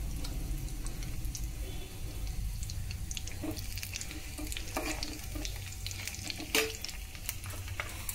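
Mustard and similar tempering seeds sizzle and fry in hot oil with fenugreek for a chutney, a steady soft crackle with occasional louder pops and stirring scrapes, alone and close.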